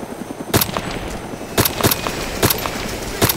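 Gunfire in the military video game Arma 2: Operation Arrowhead, sharp loud shots cracking out singly and in short pairs at irregular intervals over a low background rumble.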